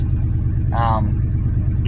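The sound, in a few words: loud truck exhaust idling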